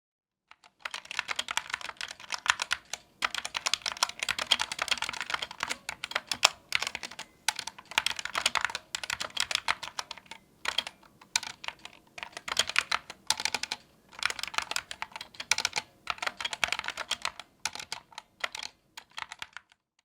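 Rapid, continuous keystrokes on a white Banggood GK61 mechanical keyboard, a dense clatter of clicks in bursts with brief pauses, close and clear with no voice.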